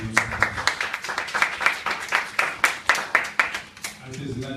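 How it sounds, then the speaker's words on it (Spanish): Clapping from a conference audience welcomes back a speaker on human rights and oral trials in criminal justice, distinct individual claps in a loose, uneven rhythm that fade near the end. "Recibámoslos nuevamente con un fuerte y cariñoso aplauso."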